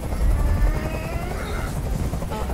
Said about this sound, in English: I can't stand that noise anymore. Tell that helicopter to get out of here.